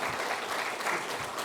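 Sustained audience clapping at a Hindi shayari and ghazal poetry recital, dense and steady applause from a crowd filling the whole moment with no voices over it.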